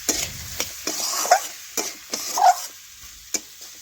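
Potato and ridge gourd pieces fry and get stirred in a pan, with a soft sizzle under irregular scraping clacks of a spatula against the pan, close and fairly loud.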